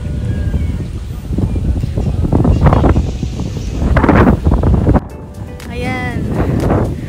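Strong wind gusting and buffeting the microphone in a constant roar at a mountain resort in Tanay, Rizal, Philippines, while people talk underneath.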